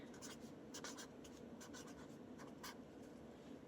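A pen scratches across paper in short, quiet strokes of lettering for a crossword-puzzle collage, the faint scribbles sitting over a steady background hiss.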